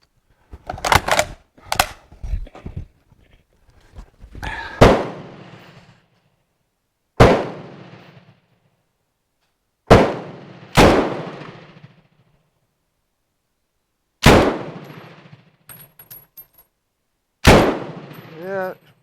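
A Bren MK2 .303 machine gun fires with a swapped magazine, firing only single sharp reports and short bursts separated by pauses, as if stoppages keep interrupting it; loud, close shots, each with a brief echoing decay.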